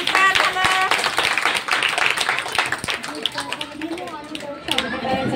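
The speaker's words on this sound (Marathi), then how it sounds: "प्रयोगासाठी टाळ्या वाजवा." An audience claps for a demonstration experiment, quick scattered handclaps in a burst that thins out, mixed with voices and chatter that continue over it.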